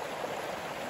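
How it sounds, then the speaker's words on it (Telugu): Masilodhin waterfall flowing, a steady broadband rush of falling water, even and unbroken over a brief moment with no talk. "ఎంతగా మనం ఎదురు చూస్తున్న వాటర్ ఫాల్"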